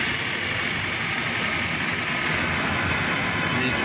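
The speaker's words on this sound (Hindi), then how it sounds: "देखते हैं अल्हम्दुलिल्लाह बिल्कुल स्मूथ खड़ा है इंजन।" Toyota Prius 1.5 engine idling smoothly in drive at a workshop, giving a steady, even hum with a broad hiss and no missing, close and continuous throughout with no talk.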